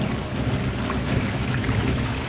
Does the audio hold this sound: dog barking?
no